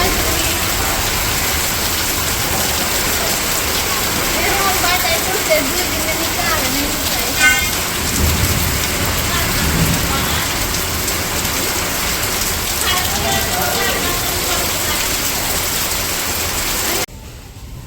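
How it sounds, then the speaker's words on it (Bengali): Rain falls steadily over a village after a long dry spell, a continuous close patter and hiss lasting throughout before cutting off abruptly near the end. "তো অনেকদিন পর বৃষ্টি নামলো"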